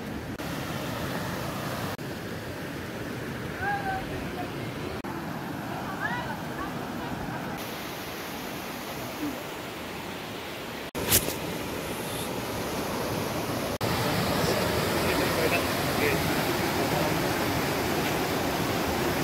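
Dharkhora waterfall at Chikhaldhara, Amravati, a steady broadband roar of falling water that swells louder toward the end, with a brief sharp knock midway and faint voices in the background.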